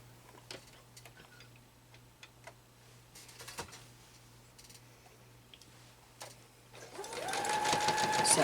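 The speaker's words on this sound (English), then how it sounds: "And this time we're going to sew all the way, from start to finish." A sewing machine runs steadily through a full seam on a quilt block, starting after a stretch of faint ticking and handling noises and building into a loud, continuous mechanical whir.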